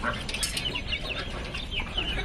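Several pet pigeons kept indoors at a farm coo and murmur close by in a busy, overlapping chorus, with light rustling of feathers throughout.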